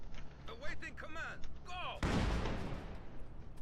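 A heavy Soviet artillery barrage in Company of Heroes 2 crashes in as a sudden dense rumble of shelling midway, following a stretch of someone talking over game sounds.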